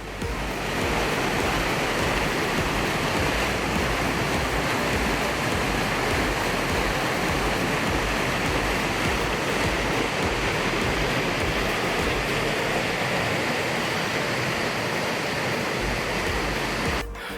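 Stream water rushes continuously through a mountain valley in a Gangwon-do national recreation forest, a dense, even roar with no voices.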